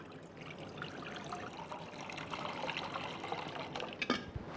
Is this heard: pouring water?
yes